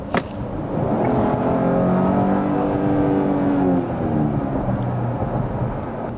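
A 2015 Porsche Cayenne S E-Hybrid with a 3.0 V6 accelerates hard on kick-down, the engine note rising in pitch as revs climb, loud and close, then easing off after a few seconds.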